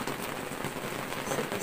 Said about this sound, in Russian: наконец-то дождь принесли и появился